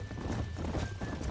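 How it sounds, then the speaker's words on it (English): Horses gallop in Red Dead Redemption, their hooves drumming in a quick, steady rhythm that stays loud and close for the whole stretch. "There's the horses!"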